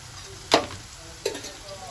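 Onions with turmeric fry in a pan, giving a steady sizzle that two brief spatula stirs break up, the first louder than the second, with no voice.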